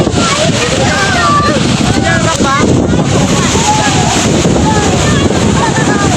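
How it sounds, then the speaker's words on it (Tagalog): Strong wind at Laguna Bay buffets the microphone in a constant roaring rush, with voices shouting faintly underneath. "Lakas ng hangin!"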